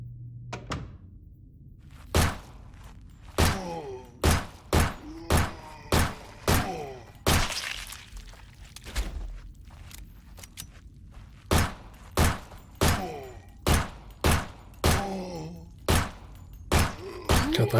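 Gunfire in Nightmare of Decay comes as many sharp, loud shots, mostly single and evenly paced, with short bursts of them close together and brief pauses between.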